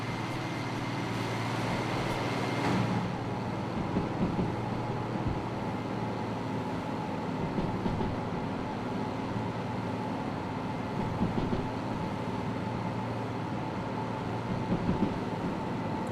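A steam train running in a train-driving video game, a steady loud rumble of wheels and engine with a low constant drone and occasional clanks, holding evenly throughout.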